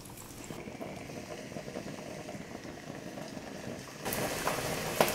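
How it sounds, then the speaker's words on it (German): Gurnard fish sizzling in olive oil in a pan, a steady bubbling crackle that grows louder and busier toward the end. "Dann nehmen wir etwas Olivenöl. Den Knochen braten wir auf der entgegengesetzten Seite der Haut an"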